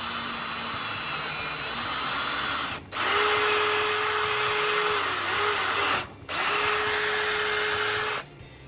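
A power drill drives a quarter-inch lag bolt while a home-made quail cage is built, in three steady whining bursts separated by short pauses, loud and close, with no talk.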